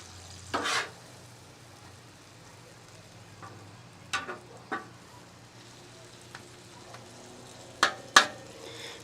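A spatula stirs Philly cheesesteak sausages with peppers, onions and melting cheese in a pan under a soft sizzle, with a few sharp scrapes and clanks of utensil on metal spaced through.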